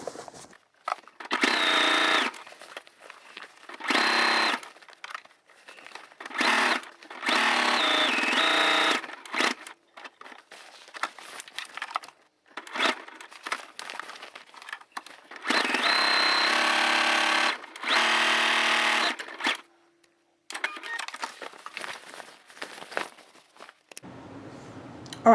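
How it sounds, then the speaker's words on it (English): A sewing machine top stitches close to a seam on a Dollar Tree placemat, running in several separate bursts of steady stitching with pauses between them, loud and close with no talk. "I'm going to top stitch it close to the seam, just so this will lay flat"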